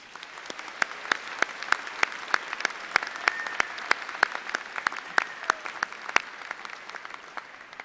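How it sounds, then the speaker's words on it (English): Scattered audience applause for the Washburn Singers at a Washburn University fall commencement ceremony: sparse, distinct claps at an irregular pace, fairly soft against a quiet room. "Let's give them a round of applause, please."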